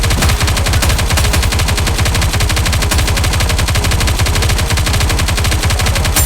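Rapid, sustained automatic gunfire from the PC video game NIKKE: Goddess of Victory, loud and continuous for the whole stretch, with dense rhythmic bursts and no talk.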